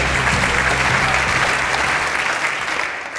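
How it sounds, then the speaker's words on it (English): An audience at a Welsh school sports awards ceremony applauds: a thick, continuous wash of many hands clapping, loud and even, easing slightly toward the end. "They are applauding you."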